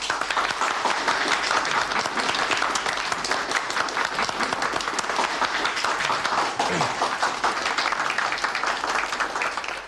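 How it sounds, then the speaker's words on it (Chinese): Applause from a meeting room full of people, dense and sustained, with steady loud clapping that fills the whole stretch and never lets up. "鼓掌。"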